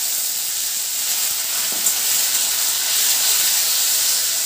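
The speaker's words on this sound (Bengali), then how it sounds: "এখন আমি মধ্যে পেঁয়াজ আর টমেটো" Onion and tomato sizzle hard in a hot pan while a kasuri chicken dish is being cooked. The hiss is steady, loud and close, and it carries on without pause or voices.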